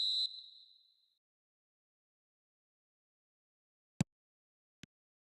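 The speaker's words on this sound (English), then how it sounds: "There's the whistle, and here we go." A referee's whistle sounds in an eFootball video game match: one short, shrill blast that fades within about a second. Silence follows, broken by two sharp, isolated clicks.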